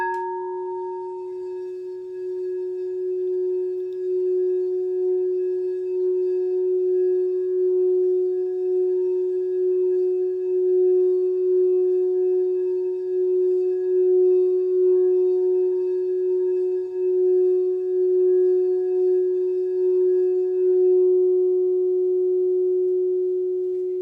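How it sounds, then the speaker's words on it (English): A prayer bowl rung once during a morning worship service sustains a pure, steady tone for over twenty seconds, clear and alone, with faint higher overtones fading out near the end. "as Paul rings our prayer bowl for us this morning"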